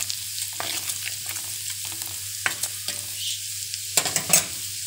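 Garlic cloves with coriander frying in oil, stirred in a pan: a steady close sizzle with bursts of scraping stir strokes, louder crackling flare-ups near the end, no talking.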